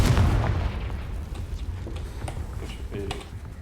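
In the Hogwarts Legacy video game, a Confringo spell sets off an explosion: a heavy boom at the start that fades into rumbling, scattered pops and crackles, with some game voice beneath.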